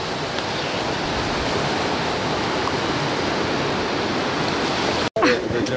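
Waterfall at Baños, Ecuador, roaring as a steady, loud, broadband rush of falling water that fills the scene nearly without pause, then cuts out briefly near the end before resuming.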